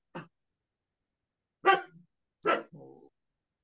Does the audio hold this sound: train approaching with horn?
no